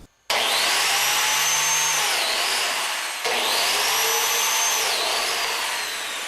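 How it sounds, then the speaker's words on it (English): A biscuit joiner cutting slots into a cherry step stool rail gives two loud, whining motor bursts, each with a rising and dipping pitch as the blade plunges into the wood, heard close with no talking. "I'm going to make little biscuit slots"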